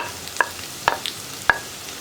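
Grated coconut and onion frying in a pan for an Idichakka masala roast, a soft continuous sizzle broken by three distinct spatula scrapes and taps, close up, with no talking.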